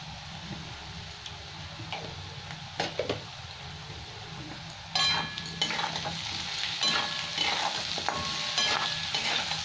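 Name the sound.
frying potatoes with turmeric and salt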